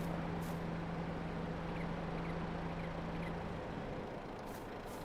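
A Massey Ferguson tractor engine idles in Farming Simulator 22, a steady, dense low rumble with a constant hum that carries on unbroken and then settles slightly lower near the end.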